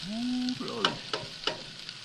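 Breakfast eggs and bacon frying in a pan at a campsite, a steady sizzle with a few sharp scrapes or stirs of a utensil, close and moderately loud. A brief whistle-like tone sounds near the start.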